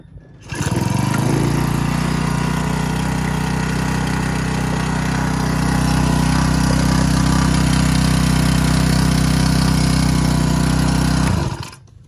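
A Honda WJR2210 four-stroke engine pesticide sprayer with a 15-litre tank starts with a pull and then runs loudly and steadily at a constant, droning pace, close up for about ten seconds before cutting off.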